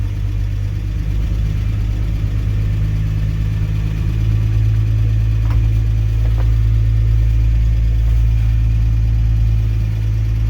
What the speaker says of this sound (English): it started right up pretty good for being a cold engine